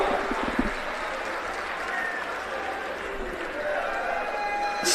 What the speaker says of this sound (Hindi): एक बार जोरदार तालियां, खड़े होकर एक बार जोरदार तालियां हमारे योगी आदित्यनाथ जी के लिए।